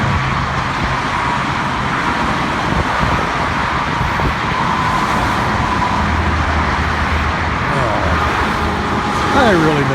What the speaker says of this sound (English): 6 lanes of traffic westbound right here underneath 83rd Avenue.